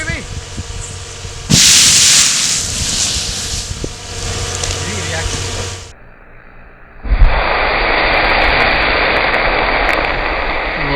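Water is poured into oil burning at 300°C, setting off a sudden loud roaring hiss as the fire flares violently. After a brief lull, a second powerful, sustained roar of flame and steam follows, with a voice speaking near the start.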